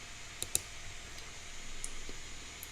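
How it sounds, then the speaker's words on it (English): Light, sparse clicks of typing on a computer keyboard, a few faint separate keystrokes over quiet room hiss. "I'm a little lazy with typing here,"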